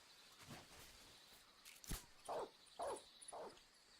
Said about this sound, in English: See, we got the dog